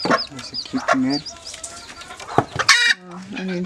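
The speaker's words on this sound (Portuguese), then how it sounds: "a galinha com seus pintinhos" A hen with her chicks clucks repeatedly in short, close bursts, mixed with scattered chick peeps and rustling, including a louder squawk near the end.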